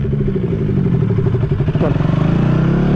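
A KTM motorcycle ridden through sand near Pushkar roars up close, the engine revving and surging in loud, uneven bursts as the pitch climbs, with a brief dip midway before pulling hard again.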